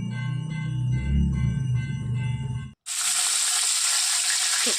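Vegetables drop into hot oil already crackling with panch phoron, and a loud, steady sizzle starts at once and runs on, with a brief clunk and a short silence just before it.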